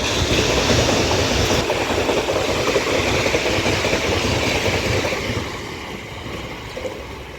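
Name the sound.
London Underground train passing through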